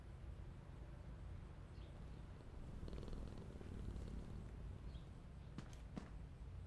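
A cat in the horror game Five Nights at Freddy's: Into the Pit purrs softly while being petted, a low continuous rumble with a few faint clicks and taps near the end.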